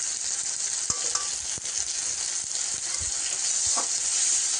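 Spices for a spicy katla (rohu) fish curry being stirred in a hot pan, a steady close sizzle with scattered scraping clicks of the spoon against the pan throughout.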